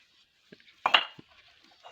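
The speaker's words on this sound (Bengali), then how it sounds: "একটু বাড়ি দেন তো দেখি এটার কোয়ালিটি কেমন দুইটা ইট" At a brick kiln, two bricks are knocked together to test their quality. One hard, sharp clack rings out, with a few faint taps around it in a quiet setting.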